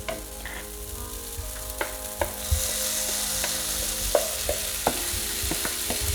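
Mashed potato, grated carrot, boiled pea and tofu filling for a vegan stuffed paratha frying in a pan. Scattered spatula taps and scrapes sound at first, then a steady sizzle swells and continues under more clicks.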